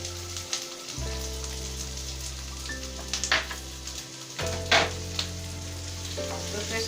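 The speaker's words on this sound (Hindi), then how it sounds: "तो क्रिस्पी होने तक थोड़ा सेक लेते हैं।" Chickpeas frying with capsicum and chilli for crispy chilli chana, a steady close sizzle with occasional stirring scrapes and spatters over a background of sustained music tones, no one speaking.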